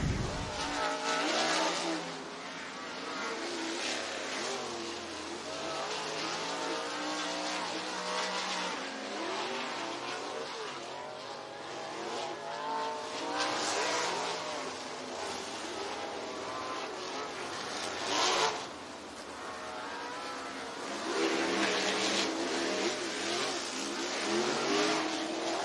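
Sprint race cars at Southern Raceway in Milton, Florida roar continuously around the speedway during a heat race, engines revving and rising and falling as they pass, with occasional louder surges over a constant wall of noise.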